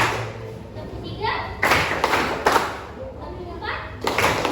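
A classroom of high school students claps together in a counted pattern, several loud, sharp group bursts in quick succession over a murmur of voices.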